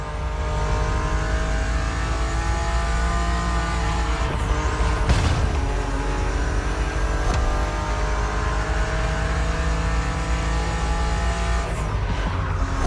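A BMW Z roadster engine roars steadily at high revs during a race in The Crew Motorfest, with gear-shift dips, a brief rushing pass, and a continuous loud drone throughout.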